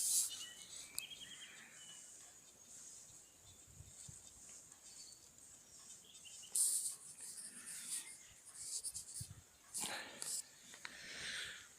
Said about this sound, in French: On entend les oiseaux maintenant.